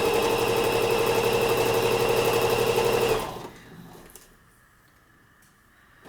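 A sewing machine stitching down the side of a felt Santa sack runs with a fast, steady mechanical whir for about three seconds, then stops, leaving faint handling noises and quiet room sound.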